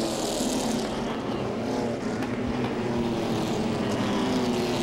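Pro Six division race cars run a 30-lap race at Langley Speedway, a continuous loud roar of several engines droning together with no break, nearby and steady throughout.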